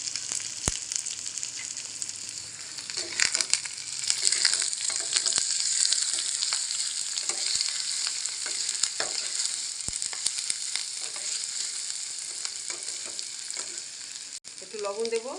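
Green chilies and curry leaves sizzle steadily in hot oil while being stirred, a loud, continuous crackling fry with occasional sharp pops and scraping of a utensil in the pan.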